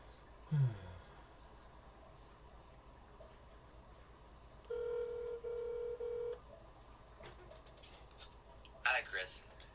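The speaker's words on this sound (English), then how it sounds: "I'm going to give you a call on the phone." Telephone dialing tones while placing a phone call: a short run of steady electronic beeps in the middle, with faint clicks and low background noise around them.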